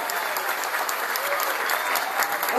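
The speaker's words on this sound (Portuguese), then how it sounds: "Mais palmas, por favor. Mais palmas." Dense, steady applause from a crowd at a public event honoring a mayor, continuous loud clapping filling the whole moment without pause.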